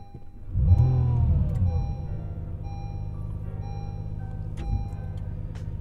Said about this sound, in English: there's your start stop button, foot on the brake, and you're gonna hit that to start